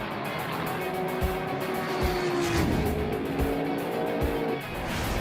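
GT300 class supercars race on a track, with engines roaring continuously and cars passing near and far, including a tonal engine whine and some tire noise, loud and sustained.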